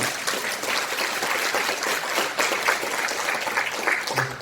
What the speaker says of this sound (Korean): 축하의 박수를